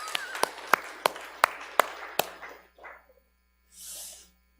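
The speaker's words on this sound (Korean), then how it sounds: "박수 한번 쳐주세요." A short burst of hand claps from a church service congregation, several sharp claps in a loose rhythm from a small group, fading out into quiet with a brief breathy noise afterward.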